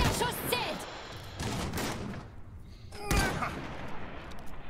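Bursts of gunfire in the video game Iron Harvest, several sharp volleys with a loud crack near the three-second mark, set against a dense, noisy battle din.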